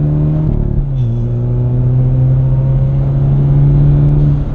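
A 2016 Chevrolet Camaro 2.0T turbo with a turbo wrap accelerating from inside the cabin, a steady droning engine note rising gradually in pitch as the turbo spools, loud and continuous with no talking.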